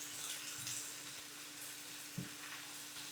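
Egg and chopped vegetables frying in a pan for a ground beef dinner, with a steady close sizzle and a brief clink partway through.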